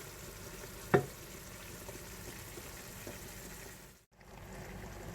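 Vegetables and meat cook in a pan with a continuous, fairly quiet frying hiss. A utensil knocks once early on, and the sound briefly cuts out near the end.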